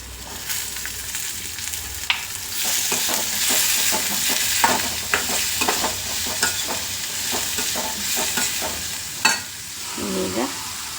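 Finely chopped vegetables for shavige bath fry in oil in a pan, with a constant close sizzle and repeated scraping and tapping from the stirring spoon.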